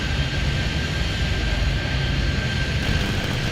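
A jet airliner roars steadily on takeoff in the Airport Madness airport game, a loud continuous engine rush with a thin high whine, no voices.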